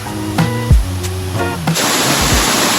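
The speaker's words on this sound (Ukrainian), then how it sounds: "зараз нас тут біля водоспаду великий гук" A voice speaks briefly, then a loud, constant rushing roar of a nearby waterfall in the Carpathian Mountains fills the rest of the clip.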